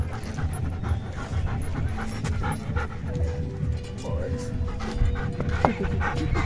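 A dog at a dog farm pants rapidly and steadily close by, with a murmur of voices and background commotion underneath.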